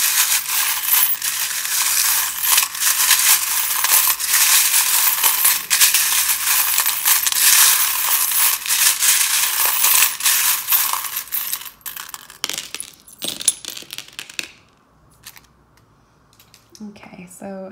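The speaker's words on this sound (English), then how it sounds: "these can be a bit loud when I shuffle" Dense, continuous clinking and rattling of tarot charms being shuffled for about twelve seconds, then a few scattered clicks and taps as it quiets.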